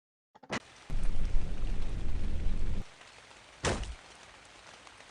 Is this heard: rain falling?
yes